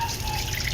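Tap water runs steadily into a sink during tooth brushing, a brief soft splashing stream heard up close with no voices.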